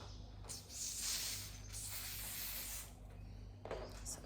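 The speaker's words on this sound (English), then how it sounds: "So just spray down the area that you want to do." Short close hissing bursts of a spray bottle misting the area during a closure wig install, several sprays with brief pauses between them.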